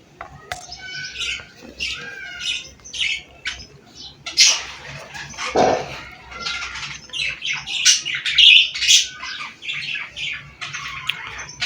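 Pet pigeons, a newly bought pair kept at home, make soft calls and squawky chirps through the whole stretch, with other bird sounds mixed in and no talking.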